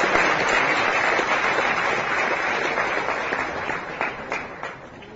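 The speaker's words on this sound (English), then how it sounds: "one round of applause is absolutely needed." Audience applause at a Giants International Day gathering, broad steady clapping from a large hall crowd that slowly fades toward the end.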